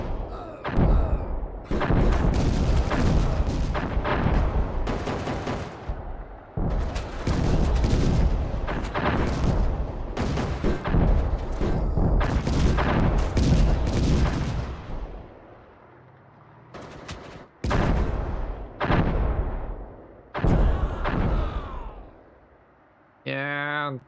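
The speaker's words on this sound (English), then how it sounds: "something with some very heavy bore is shooting back at us" Heavy-bore gun fire aimed at tanks in the video game Panzer Strike, a series of loud booming thuds and blasts, some spread apart, with someone speaking over parts of the battle.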